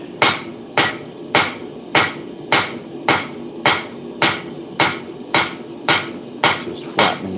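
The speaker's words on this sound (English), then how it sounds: "Just flattening out this 1/4 inch W1." A hammer flattens 1/4 inch W1 steel stock to prepare engraver blanks, striking in a steady, even rhythm of about a dozen loud, ringing blows spaced roughly half a second apart.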